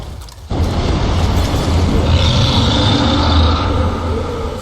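A loud, sustained rumbling blast with a deep low-end roar and gritty mechanical debris noise, following a brief quieter lead-in, from an explosion in Killing Floor 2.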